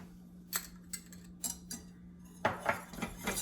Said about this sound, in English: and whisk that in.